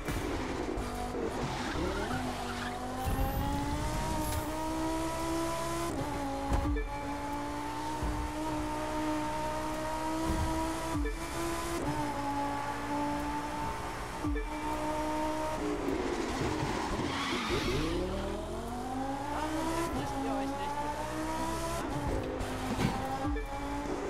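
A race car in The Crew 2 video game, driven on a Nordschleife-style track, roars continuously through shifting revs with repeated gear changes, rising and falling engine pitch and bursts of tire squeal and skidding, loud and steady throughout with no voices.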